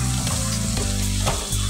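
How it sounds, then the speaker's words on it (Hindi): Sliced onions with crushed ginger and garlic fry in hot oil, a loud, steady close sizzle with brief stirring scrapes and no talk. "इसे हम अच्छे से फ्राई कर लेंगे"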